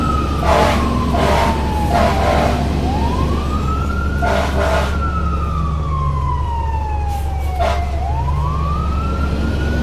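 A fire engine siren wails up and down continuously nearby, loud and steady, punctuated by several short blaring air-horn blasts, with no voices.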